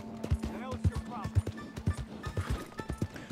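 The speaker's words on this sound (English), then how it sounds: "Let's go ahead and hitch my horse just right up here." Horse hooves clip-clop in a steady walking rhythm in Red Dead Redemption 2, close and distinct, with a low hum and brief chirps underneath.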